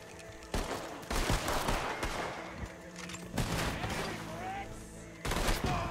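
Repeated volleys of gunshots erupt during a Red Dead Redemption 2 firefight, sharp bursts separated by short lulls, with faint voices in the background.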